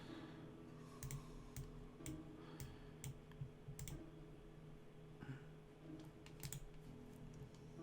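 A typewriter is typed on in The ABC Murders video game, irregular quick clacks in small bursts over a faint hum, fairly close and quiet.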